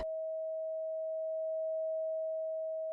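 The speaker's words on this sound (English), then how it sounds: "the vibration of 639 hertz" A pure 639 Hz sine tone hums steadily and softly, a single unwavering pitch held alone for about three seconds.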